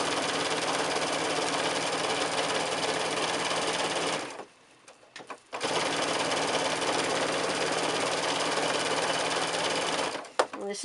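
A sewing machine stitches through several thick layers of quilted fabric on an oven glove, running steadily and loudly at close range with a brief pause mid-way before resuming.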